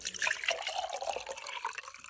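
Water pours and splashes steadily into a container close by, with a brief bubbling trickle, and no one speaks; warm water being poured to dilute a plant spray mixture.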